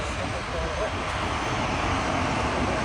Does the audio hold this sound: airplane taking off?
yes